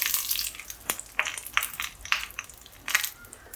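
Dried red chillies crackle in hot oil with asafoetida, fenugreek seeds and mustard seeds, giving close, bright sizzling pops and small sharp clicks at an irregular pace over a steady hiss.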